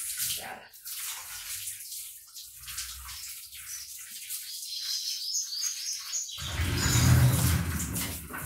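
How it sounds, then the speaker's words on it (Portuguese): A garden hose runs water in a steady splashing rush outdoors. The flow grows louder and fuller near the end, and faint birdsong is heard in the background. "ligar a mangueira que é melhor"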